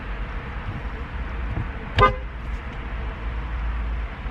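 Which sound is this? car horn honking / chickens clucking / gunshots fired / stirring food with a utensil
car horn honking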